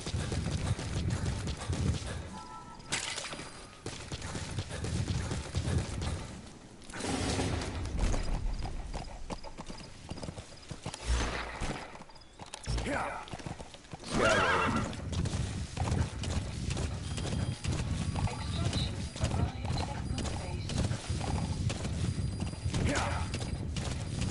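D-Horse, the rideable horse in Metal Gear Solid 5: The Phantom Pain, gallops with steady clip-clopping hooves and lets out a few whinnies, all mixed under game music and effects, with a player speaking at points.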